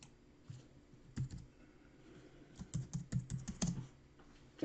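Computer keyboard typing while renaming an object in engineering design software, a quiet run of key clicks in scattered bursts with a denser flurry toward the end, no voices.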